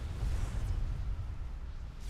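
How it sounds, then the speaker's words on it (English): A deep, sustained explosion rumble from the strategy game Forged Alliance Forever rolls on heavily for two seconds and fades slightly, with no voices. "Oh, an explosion."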